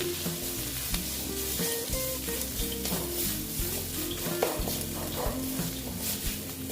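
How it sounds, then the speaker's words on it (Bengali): Mung kaliya with chilli powder sizzles loudly in a frying pan as it is stirred, a dense continuous hiss over low bubbling and occasional utensil knocks, close and without voices. "তারপরে এটাকে আমি একটু নেড়ে চেড়ে নিচ্ছি"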